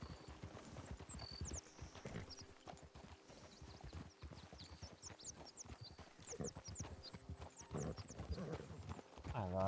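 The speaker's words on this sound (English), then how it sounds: "Yep, that's a Clydesdale." Hooves of a Clydesdale horse clip-clop on a road in the video game Red Dead Redemption 2, a steady, uneven patter close by, with a neigh and some speech around it.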